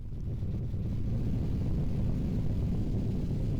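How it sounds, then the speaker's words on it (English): A steady, low roaring rumble like a jet engine, constant and fairly loud with no voices. "And with that, I bring a jet engine sound,"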